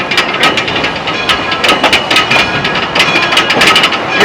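A Roaring Camp Railroad train rolls along, heard from on board as a loud, dense clatter of wheels and rattling carriage with sharp rhythmic knocks throughout.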